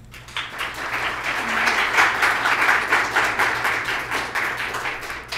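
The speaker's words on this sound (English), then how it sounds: "Please join me in a round of applause" A symposium audience gives a lecturer a welcoming round of applause, a full and continuous clatter of many hands that swells slightly toward the middle and holds for about five seconds.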